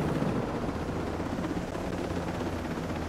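Helicopter in the video game Ghost Recon Breakpoint, a steady dense rotor and engine roar holding at constant loudness throughout, with no voices heard.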